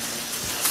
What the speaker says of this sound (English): So that is how we spray.